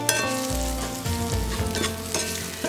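Okra coated in cornmeal frying in grass-fed beef tallow in a skillet, a steady close sizzle with occasional stirring scrapes and pops, no talk.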